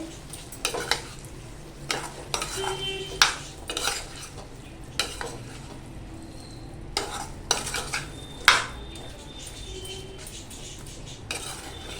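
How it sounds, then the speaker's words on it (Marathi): Dried bombil fish and potato are stir-fried in masala, Malvani style, with a spatula scraping and clinking against the pan in irregular strokes over a low, steady sizzle. No one speaks. "आपण आता हे बोंबील आणि बटाटा आहे ना व्यवस्थित असं ना मसाल्यात परतून घ्यायचं आहे"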